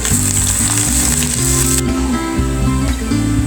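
Chopped cabbage hits a hot frying pan and sets off a steady, loud sizzle that runs the whole time, with music playing underneath.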